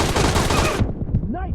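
Rapid automatic gunfire from the battle royale video game PUBG, a dense, loud burst of shots for most of the second, then a sudden cutoff leaving a brief tail of game sound effects.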